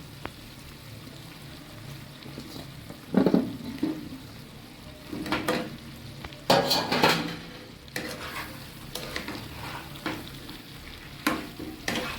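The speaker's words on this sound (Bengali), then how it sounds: "এখন আমি আলুগুলো দিয়ে দিচ্ছি।" Potatoes go into a frying country-chicken curry with the oil already separated, giving a steady sizzle broken by several louder bursts of stirring and utensils scraping against the pot.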